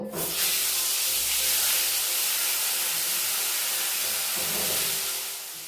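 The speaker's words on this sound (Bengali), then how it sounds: "স্বাদ মতো নুন, হলুদ গুঁড়ো দিয়ে আলুগুলো লাল করে ভেজে দেবো।" Cut potatoes dropped into hot mustard oil with turmeric, a loud, dense hiss and sizzle right from the start that holds steady and fades slightly at the end.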